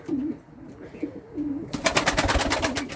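Bango pigeons coo softly in low repeated phrases close by, with a burst of fluttering or scuffling near the end and no talking.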